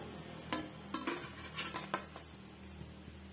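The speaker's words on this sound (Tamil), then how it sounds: "எல்லாம் வடிகட்டிட்டு ஒரு பிளேட்டுக்கு மாத்திக்கலாம்" Fried chicken pieces drained and moved onto a plate, with several sharp clinks and scrapes of metal utensils against cookware coming in quick, uneven bursts nearby, then settling into quieter kitchen handling.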